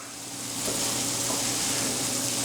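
Butter melts with halved garlic and shallot alongside a steak in a hot pan, giving a soft, steady sizzle that swells slightly at the start and then holds at a constant hiss, fairly quiet and with no talk.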